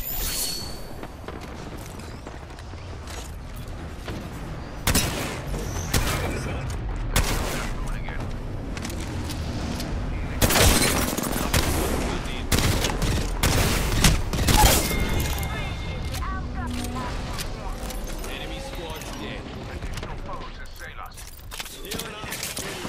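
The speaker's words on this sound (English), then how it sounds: "More guys behind on the south side, throwing grenades up." Gunfire and grenade explosions in a chaotic Apex Legends firefight on a high desert hillside, with repeated bursts of shots and several loud booms throughout, a voice talking over the action.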